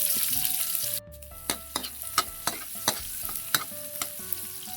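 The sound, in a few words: sautéing garlic and onion in cooking oil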